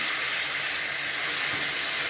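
Tomato, onion and ginger-garlic paste sautéing in hot oil for paneer butter masala produces a loud, continuous close-up sizzle with no pauses.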